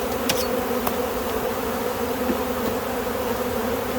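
Loud, dense buzzing from many honeybees swarming around an open hive in spring, a continuous droning hum that stays close and steady. A few individual bees pass nearby.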